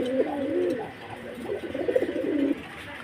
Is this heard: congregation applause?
no